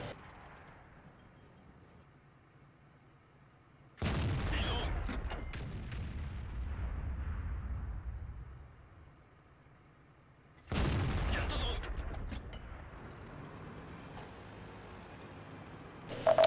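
Two heavy tank cannon shots in a tank battle game on a swamp map, each a loud, sudden boom followed by a long rumbling decay, spaced several seconds apart with quiet ambience between.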